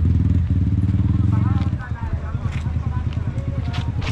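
A motorcycle engine putters close by with a steady low throb that shifts as it moves, while people talk over it outdoors.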